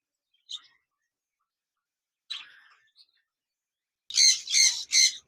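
Pet zebra finches kept for sale give a few short, sharp chirps with gaps between them, then a closer burst of three loud squawking calls at the end.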